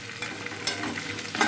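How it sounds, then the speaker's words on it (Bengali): Green jackfruit paste with green chilli frying lightly in a pan, a soft close sizzle with quick stirring scrapes through a short burst. "এটা হালকা ভেজে নেব"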